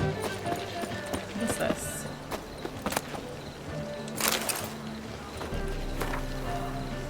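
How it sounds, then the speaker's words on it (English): Horse hooves clip-clopping at a gallop in The Witcher 3, a steady rhythmic patter under game music and ambience, with a brief spoken voice over it. "I will ride my horse to Crow's Perch"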